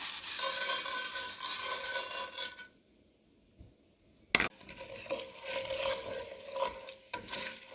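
Lentils fry in hot oil in a kadai on a stove, a close crackling sizzle broken by a short quiet gap, then a sharp metallic clink of a stirring spoon and renewed sizzling with scraping.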